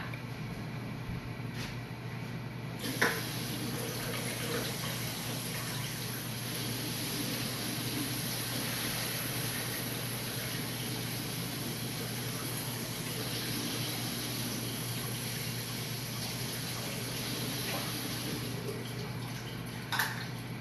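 A steady, continuous rush of water from a tap filling a pot runs for the whole stretch, even and fairly close, with a couple of faint clinks near the start and end.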